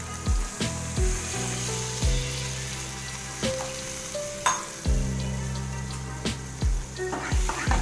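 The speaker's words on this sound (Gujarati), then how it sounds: "એમાં અડધો ગ્લાસ જેટલું પાણી એડ કરીશું" Tomato curry with sev sizzles loudly in a pan as water is poured in, with repeated sharp clinks of a spoon against the vessel over a steady frying hiss.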